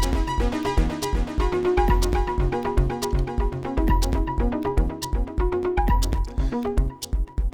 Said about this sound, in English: This is something that I created again with the Sawtooth.